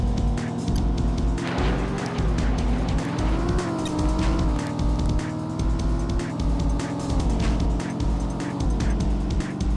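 A racing car in the PS1 video game Test Drive 4, its engine droning loud and steady with rising and falling pitch while tires squeal and skid, plus scattered clicks throughout.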